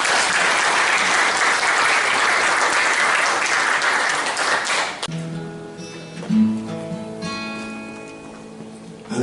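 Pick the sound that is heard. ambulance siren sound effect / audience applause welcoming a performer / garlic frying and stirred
audience applause welcoming a performer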